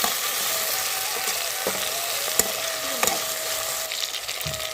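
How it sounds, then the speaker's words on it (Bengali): Chopped tomato frying in hot oil in a pan for a hilsa fish curry, a continuous close hiss and sizzle with a few sharp scraping stirs, no voices. "তারপর আমি দিয়ে দিয়েছি টমেটো কুচি।"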